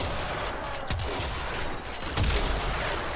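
Bursts of weapon fire from the Crointh air burst build in the video game Warframe, a dense run of rapid, sharp shots and booms at close range with no talking.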